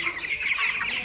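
Chickens clucking steadily in a crowded poultry house during hot summer rearing, a dense continuous chorus of many birds at moderate level with no talk.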